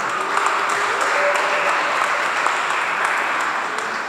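Wedding guests applaud a newly married couple in a steady, continuous round of clapping that fills the short stretch at an even loudness.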